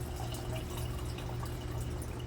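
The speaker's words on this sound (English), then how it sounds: "we're going to add a little bit of water to it" Water trickles and pours steadily into a mango ice cream mixture, a continuous soft liquid fill with no talking.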